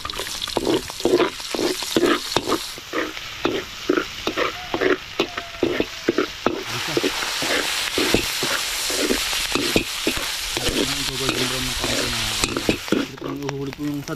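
Garlic, onion and pepper sauté in oil with loud, continuous sizzling, broken by rapid rhythmic scraping and stirring strokes of a spatula in the pan. A short voice is heard toward the end.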